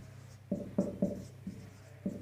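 Chalk or marker strokes on a classroom board during a Hindi-medium NEET cell biology lesson, five short scratchy bursts in an uneven rhythm, close and fairly quiet, with no talking.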